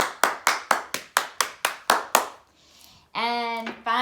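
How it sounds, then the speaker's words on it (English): About ten sharp, evenly spaced hand claps for school trivia winners ring out close and clear, then stop, followed by a short burst of voice. "Again, round of applause."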